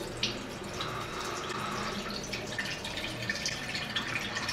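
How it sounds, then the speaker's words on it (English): Evaporated milk glugging out of a can punched with two holes, a continuous trickling pour with small drips and splashes into the dish below. "I put two holes in it, and then I'll just dump it like this."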